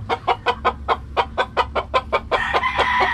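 Spartan Black chickens in a backyard cluck close by in a quick, regular series of about a dozen short clucks, with louder hen calls swelling at the end.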